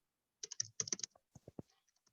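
Someone types on a computer keyboard in quick clusters of crisp key clicks, close and fairly quiet, with a few slower isolated taps at the end.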